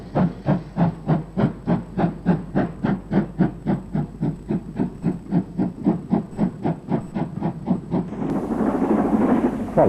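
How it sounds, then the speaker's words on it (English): Castle Class steam locomotive No. 5063 Earl Baldwin hauling an up express at Banbury, a loud, rapid, even run of exhaust beats close by, turning to a broad rushing roar as it passes. "This is Castle Class 460 locomotive number 5063, Earl Baldwin, on an up express."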